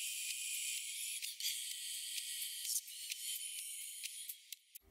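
Music filtered to only its high frequencies, a faint, thin hiss of cymbal-like sizzle and ticks with no body underneath, playing quietly alone.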